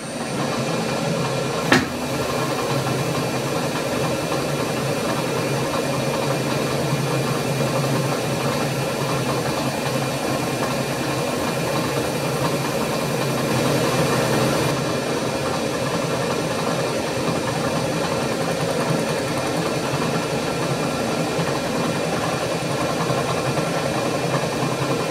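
Continuous steady mechanical hum and drone from a metal lathe taking a very light skim cut across a face with new tips, running evenly at a constant level with one brief tick near the start and no voices.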